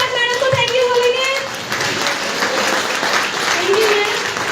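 Loud applause from a crowd at a women's health awareness presentation fills the clip, steady clapping throughout with a voice speaking over it.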